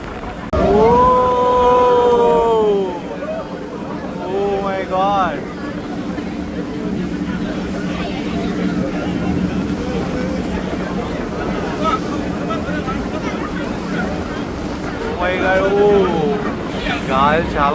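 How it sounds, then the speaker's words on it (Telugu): Strong wind buffets a large tour boat rocking at sea off Coral Island near Pattaya, Thailand, a continuous loud roar of wind and water throughout, with a voice talking excitedly over it and a few brief shouts. "బోట్ ఎలా ఊగిపోతుంది. గాలి ఎక్కువగా ఉందంట బాగా."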